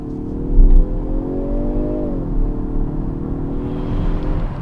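A Kia Stinger's 2.0-litre four-cylinder revs up in a gear, its tone rising before a shift drops the pitch, then settles into a steady hum with no talking.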